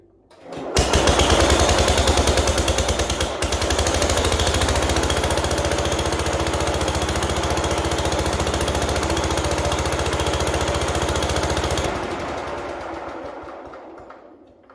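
A Wheel Horse garden tractor engine fires up and runs with a loud, rapid, steady chatter, close by, then cuts off abruptly after about eleven seconds and fades.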